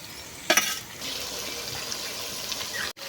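Spice-rinsing water poured into a sizzling pot of Peri duck curry, a sharp splash and hiss followed by steady frying bubble, close and loud, ending with a brief cut.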